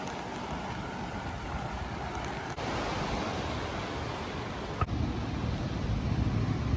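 Sea waves wash along a seaside promenade in Madeira, a steady broadband surf roar with faint wind, continuous and fairly close, with no voices.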